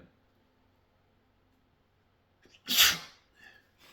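One sharp, close sneeze bursts out of near silence, followed by a couple of quiet breaths.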